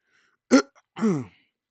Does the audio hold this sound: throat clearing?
yes